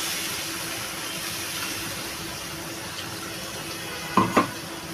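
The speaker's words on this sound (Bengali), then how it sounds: "দিয়ে দেবো সামান্য জল" Water is poured into a cooking pan of Bengali prawn curry (chingri maach kosha), a faint steady trickle with a brief louder splash near the end.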